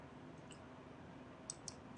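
A computer mouse clicks twice in quick succession, faint and close, over a very quiet background hiss with a few tiny ticks before.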